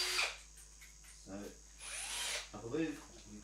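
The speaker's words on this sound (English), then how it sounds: "so we do the Ryobi drill. The brushless, this is an oldie but a goldie" Ryobi brushless drill running in short bursts, a close, high whirring spin at the start and a longer one in the middle, with a voice talking between and after them.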